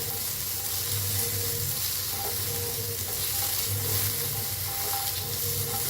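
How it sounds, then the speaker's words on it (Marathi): Onion frying with ginger, green chillies and garlic for egg curry, a continuous bright sizzle with occasional stirring, steady and close-up, no voices. "हलवून भाजून घेऊया कांदा लालसर कलर येऊस्तर"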